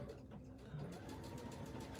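A sewing machine running a top stitch in orange thread on fabric: a quick, steady mechanical whir of the needle, close and continuous for a couple of seconds.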